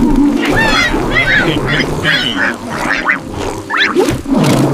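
Loud, nasal quacking calls repeat over a busy background, several in a row with short gaps between them.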